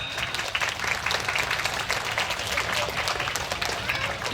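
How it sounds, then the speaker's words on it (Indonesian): Steady, dense applause from pesantren students fills a Haflatul Imtihan graduation ceremony at Pondok Pesantren Al-Rahmah Sekadau, sustained and close throughout, with faint voices mixed in. "Tepuk tangan lagi."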